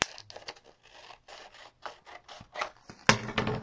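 Scissors trimming the edge of a paper peony flower, a quick run of close, crisp snips and paper rustles in uneven rhythm, ending in a louder crinkle, no voices.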